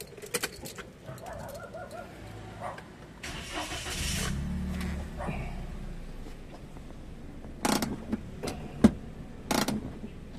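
A Toyota Wigo's engine idles in a repair shop where the brakes are being checked, a low steady hum that cuts off midway, followed by clunks and a few pigeon coos.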